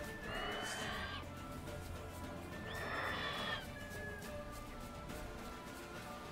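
Horse in The Witcher 3 game world neighs twice, loud whinnying bursts near the start and around three seconds, over a steady low game ambience.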